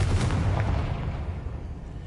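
A Confringo spell exploding in the Hogwarts Legacy video game, a dense, rumbling blast that fills the short moment and fades slowly, with no voices.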